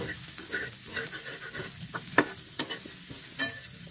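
Carrot, capsicum and onion being stirred and fried in a pan, making a soft, steady sizzle with scattered scraping clicks and a few sharper knocks from the stirring.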